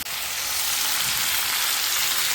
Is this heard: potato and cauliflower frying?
yes